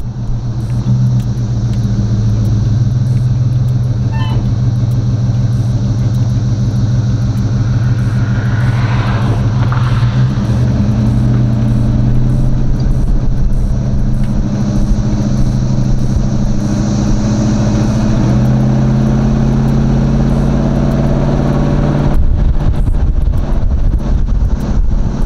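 A Box Chevy with its stock small block engine drives along, a steady loud rumble of engine and road noise with wind buffeting, holding constant for the whole stretch and rising slightly partway through, with no talking.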